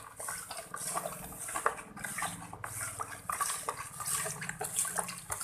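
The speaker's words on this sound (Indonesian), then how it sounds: "Kita aduk hingga larut." Plastic spoon stirring granular calcium nitrate into water to dissolve it for homemade AB Mix hydroponic fertilizer, a steady wet swishing and light scraping with irregular clinks, close and continuous, no voices.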